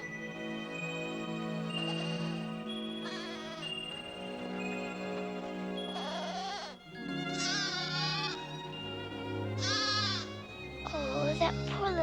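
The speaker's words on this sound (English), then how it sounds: "Oh, that poor little goat." A small goat bleats several times, high wavering cries at close range, over a continuous orchestral music bed with a voice speaking in places.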